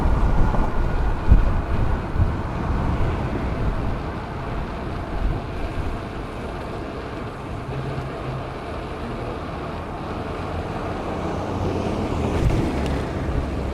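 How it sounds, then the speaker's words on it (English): Steady, roaring wind buffets the microphone while cycling at about 32 km/h through midtown Toronto streets, with no one speaking. "In what feels like straight into the wind."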